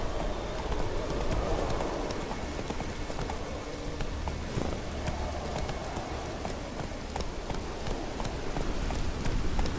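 Roach the horse gallops through rain in The Witcher 3, with steady, rhythmic hoofbeats close by over a constant hiss of rainfall for nearly ten seconds.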